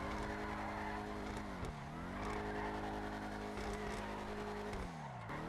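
A Vigero ZX muscle car drifts in GTA Online, its engine droning and shifting pitch under sustained tire squeal, with two sharp dips as it gears down, loud and continuous with no talk.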